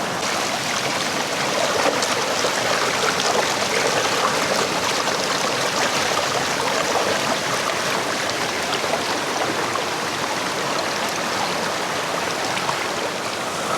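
A river flows in a steady, unbroken rush beside an outdoor Jamaican bush-cooking spot. It sounds close and even throughout, with no voices.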